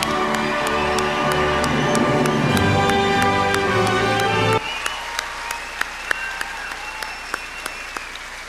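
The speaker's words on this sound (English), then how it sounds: "Give them a round of applause." A large crowd at a 2019 secondary school graduation ceremony claps and cheers loudly for the graduating class, dense applause with whoops that suddenly thins to a few scattered claps over a steady hum.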